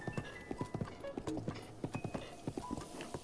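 Horse hooves galloping on a path in the video game Breath of the Wild, a steady rapid drumming of hoofbeats at moderate level, with occasional soft game tones mixed in and no talking.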